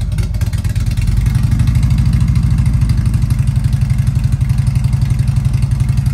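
A 2009 Harley-Davidson Ultra motorcycle with ABS idles just after starting, its V-twin engine thumping in a loud, steady, uneven rhythm close by, with no talking.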